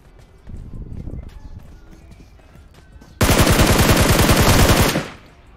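Automatic gunfire in PUBG Mobile: a loud, sustained rapid burst of shots lasting nearly two seconds, following quieter footsteps and movement sounds, then cutting off abruptly.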